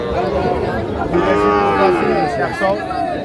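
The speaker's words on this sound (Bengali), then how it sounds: "হাটের কিন্তু সেরা মাপের গরু দুটো" Cattle mooing close by at Ambari cattle market, a long drawn-out low call swelling and fading, with a busy murmur of people in the background.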